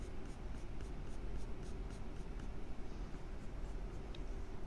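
Graphite pencil strokes lightly shading paper make a faint, steady scratching hiss with soft repeated strokes, close and quiet throughout.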